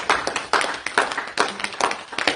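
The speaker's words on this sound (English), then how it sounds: "clap your hands" A church congregation claps hands in a quick, steady rhythm, sharp repeated claps close and loud with no talking over them.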